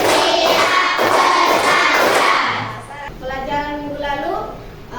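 A classroom of hands clapping in a counted routine produces a loud flurry of overlapping claps for a few seconds, then stops as a voice starts talking.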